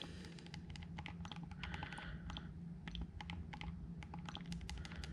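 A name is typed on a PS Vita, heard as a quick, irregular run of small, crisp tapping clicks, close and fairly quiet over a faint background hum.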